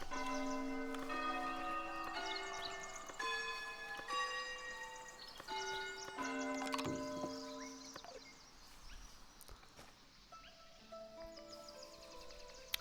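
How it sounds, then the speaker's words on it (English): A village church bell tolls in the video game Foundation, a run of bright ringing strikes with long overlapping decay, fading toward the end with a few later chimes, no voices over it. "you can decide daily, weekly, monthly, never, if the bell gets too much for you"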